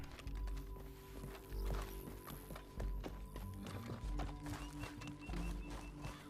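Horse hooves galloping in a steady rhythmic clip-clop, close and continuous, with game music and ambience underneath.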